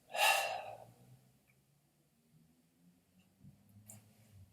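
A single strong exhale rushes out close to the mic during a sanchin dachi stance breathing exercise in karate, followed by quiet, soft breathing and a faint later breath.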